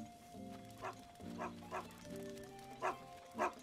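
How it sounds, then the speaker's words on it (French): A dog in the video game Zelda Breath of the Wild gives a handful of short, quiet yips and barks spaced over a few seconds against sustained game music. "c'est un chien."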